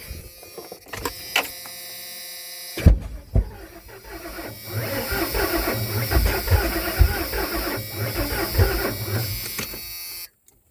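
A Ford F250 cranks and then catches after its ignition module is replaced, with a few sharp clunks before a rough, rattling engine runs steadily for several seconds and then cuts off abruptly.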